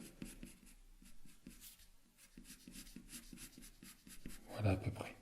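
A pencil scratches across paper while sketching a hand, giving steady, close, rapid strokes with a louder rubbing burst near the end.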